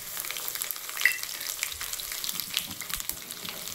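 Garlic, cumin and mustard seeds fry in hot oil for a tempering, a soft close sizzle with light popping and the scrape of stirring, fairly quiet throughout.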